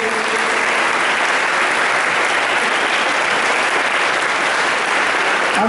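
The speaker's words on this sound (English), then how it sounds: "Please give a big round of applause for the achievers again." An audience at a school felicitation ceremony for sports achievers gives loud, sustained applause, a dense and even wash of clapping that holds steady throughout.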